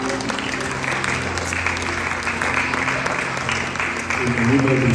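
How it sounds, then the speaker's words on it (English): A church congregation applauds during a Sunday worship and praise service, sustained clapping that swells louder near the end, with a steady low musical hum and faint voices underneath. "Let's give the Lord a round of applause."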